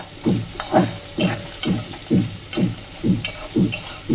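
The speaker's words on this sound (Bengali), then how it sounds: "এই যে বড়িটা ভেজে রাখছি পালং শাকের দিকে" Bori lentil dumplings fry in a pan for a spinach dish, stirred in a steady rhythm of about a dozen scraping strokes over a sizzling bed, close and fairly loud.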